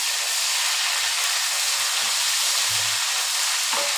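Ginger and garlic frying in a hot pan for an aloo matar curry, a steady loud sizzle and hiss with faint clinks and stirring knocks underneath.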